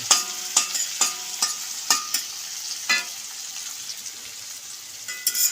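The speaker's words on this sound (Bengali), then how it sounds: "আলু ভাজি জন্য পেঁয়াজটা ভেজে নেওয়া হচ্ছে।" Onions frying in a pan for potato bhaji, with a steady sizzle and a series of sharp stirring scrapes spaced irregularly throughout, close and fairly loud, no talk.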